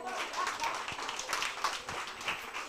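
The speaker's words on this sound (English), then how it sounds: "Well, another round of applause." Brief, fairly quiet round of audience clapping for speakers at a business chat event, scattered individual claps audible without talk.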